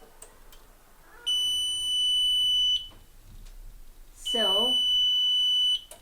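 A fire alarm panel gives two long, loud, steady electronic beeps, each lasting about a second and a half, separated by a short quiet gap while it is being programmed.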